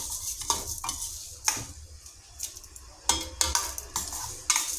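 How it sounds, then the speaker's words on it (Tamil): Moong dal roasting in ghee in a pan, spoon scraping and stirring in uneven strokes with sharp clinks against the metal over a faint steady sizzle, close and alone. "நல்லா பொன்னிறமாக வறுத்துட்ருக்கேன் நான்"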